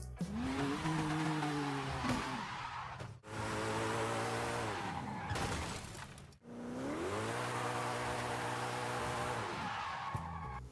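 Car drifting in the video game Forza Horizon 5: three long sustained sweeps of engine revving and tire squeal, each rising and holding, separated by brief gaps, loud and alone.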